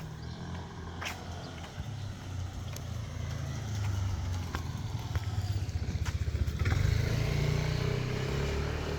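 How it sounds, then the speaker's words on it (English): A jeepney engine rumbles low and steady, then rises into a louder rev with rapid pulsing, heard at moderate distance through outdoor background noise after a typhoon. "This jeepney guy always revs his engine."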